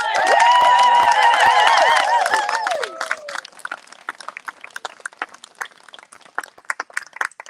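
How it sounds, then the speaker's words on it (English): Audience at a live event breaks into loud applause and cheering for a performer taking the stage, a dense burst for about three seconds, then thinning into scattered individual claps that continue at lower level. "Please, big round of applause."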